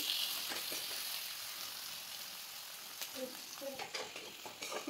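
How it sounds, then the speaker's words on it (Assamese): Onions fry in oil in a kadai after a five-spice tempering, giving a soft, steady sizzle with occasional stirring scrapes and clinks toward the end, quiet and close, with faint background voices. "পিঁয়াজখিনি আমি ভালদৰে ভাজি ল'ম।"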